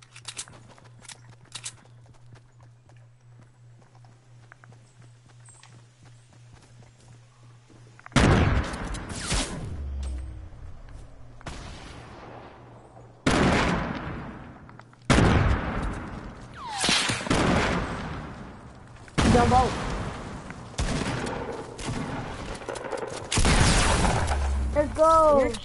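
Sniper gunfire in a video game: sharp, loud shots that arrive in separate bursts after a quiet opening, each with a long ringing tail, while players talk in between.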